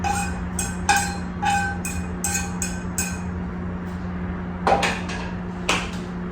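Sharp clinks and knocks of a utensil and bowl as spinach filling is put into a bowl for creamy stuffed salmon, a cluster of quick hits, a pause, then a few more, over a low steady hum.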